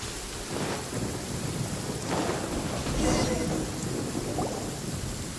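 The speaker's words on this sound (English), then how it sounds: "The rain won't slow me down." Steady rain falls in Genshin Impact, with rolling thunder rumbling through at intervals, loud and close over a constant wash of downpour.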